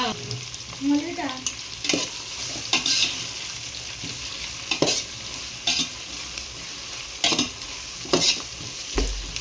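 Biryani ingredients frying in a pot for white chicken biryani, a continuous close sizzle broken by repeated stirring strokes and scrapes every second or so, no talking.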